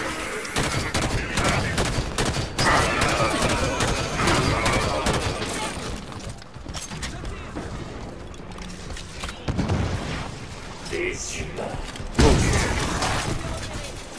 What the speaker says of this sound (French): La cadence de tir du pistolet, c'est plus ça.